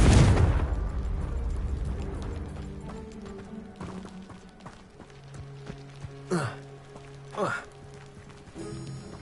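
A Confringo fire spell exploding in a video game, a loud blast at the start that fades over a second or two, followed by quieter game sounds and footsteps.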